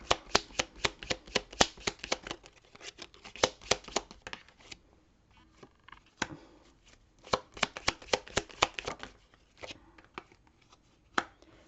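Tarot cards are shuffled by hand for a reading, giving rapid crisp riffling bursts in several rounds with brief pauses between them, close and clear with no talking.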